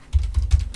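Typing on a computer keyboard, with three quick bursts of key presses close and clear, no one talking.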